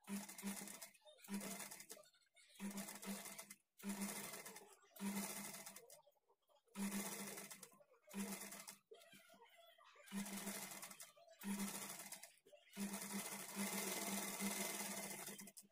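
Sewing machine stitching the shoulder seam of a blouse, running in repeated short bursts with brief pauses between them, close and fairly loud, ending in a longer continuous run.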